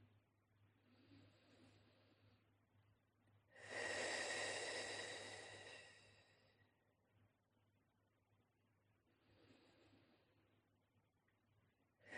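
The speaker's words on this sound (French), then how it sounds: "Commencez à prendre 3 grandes respirations complètes." Slow, deep breaths taken during a meditation breathing exercise: a soft inhale, then a long, loud airy breath lasting a few seconds, followed by quieter breaths, close and without speech.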